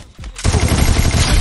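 Rapid automatic gunfire in a 4v4 competitive mobile shooter match, loud and close, with a continuous burst of shots following a brief lead-in.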